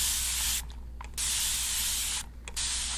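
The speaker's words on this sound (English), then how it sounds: "I'm gonna spray you with this" A handheld spray bottle misting a person's face during a beauty salon consultation, heard as two sustained close hissing sprays separated by short pauses, with no talk.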